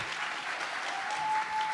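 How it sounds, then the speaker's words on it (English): Audience at a beauty pageant clapping for contestants on stage, a steady burst of applause at moderate level with a faint tone running underneath. "let's give a big round of applause for the other contestants on stage."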